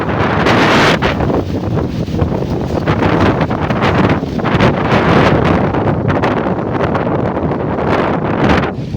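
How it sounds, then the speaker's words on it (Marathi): Steady, loud wind gusts across the microphone in rural Palghar just before the first monsoon rain of the season, a continuous roaring rush with no talk. "आता जरा वारा चालला"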